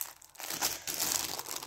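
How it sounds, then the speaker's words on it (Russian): Plastic vacuum storage bags crinkling and rustling as they are unpacked, a close series of crisp crackling bursts over a couple of seconds with no talk. "Это просто пакеты, которые выжимают воздух, чтобы мало места занимало"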